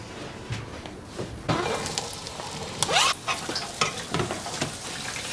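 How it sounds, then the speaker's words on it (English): Onions frying in a pan, with steady sizzling and crackling and bursts of stirring and scraping from a utensil throughout; no one speaks. "Fry the onions, yep."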